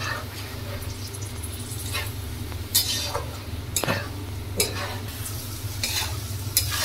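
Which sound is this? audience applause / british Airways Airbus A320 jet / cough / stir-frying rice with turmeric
stir-frying rice with turmeric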